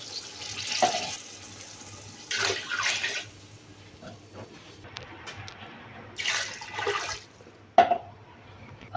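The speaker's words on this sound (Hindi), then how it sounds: "फिर इसमें पानी डालेंगे।" Glassfuls of water splash into a pot for aloo pulao, a one-pot potato rice dish, in three separate pouring bursts. Each gushing pour is separated by a quiet pause, and a small clink comes near the end.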